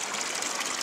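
Water gushes steadily from a public spout in Andorra, a close, continuous splashing flow with no talk.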